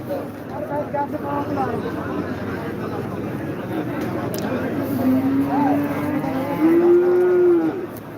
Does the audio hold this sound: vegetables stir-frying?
no